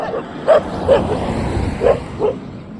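Dog barking outdoors near a shop, four short yipping barks spaced irregularly across a steady background hum, moderately near and fairly loud.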